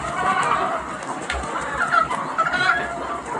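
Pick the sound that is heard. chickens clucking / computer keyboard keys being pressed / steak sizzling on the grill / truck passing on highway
chickens clucking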